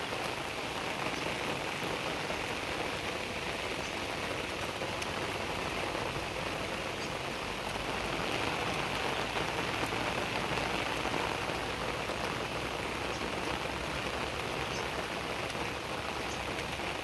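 Heavy rain falling steadily over farm fields with buffalo nearby, a dense, constant hiss of drops that stays even and unbroken from start to finish.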